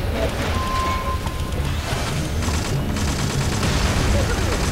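Gunfire in MySims Sky-Heroes, a steady barrage of game shots over a constant engine-like background roar, dense and unbroken throughout.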